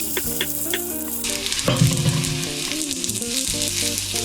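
Onions frying in hot oil with salt in a pan while cooking a vegan carbonara, a steady loud sizzle with stirring clatter and a faint melodic background, no talk.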